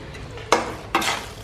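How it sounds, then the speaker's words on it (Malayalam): Kerala-style fish biryani masala is stirred in a pan: two sharp, close scraping strokes over a low background sizzle. "നന്നായിട്ടൊന്ന് ഇളക്കി യോജിപ്പിക്കാം."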